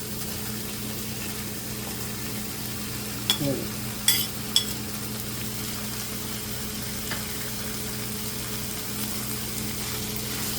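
Large tomato pieces go into mutton keema masala frying in a pan, giving a soft steady sizzle with a few sharp clinks and scrapes of a spoon as it is mixed, fairly quiet and close.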